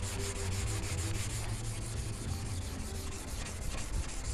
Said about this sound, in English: I flat it down with 320 grit.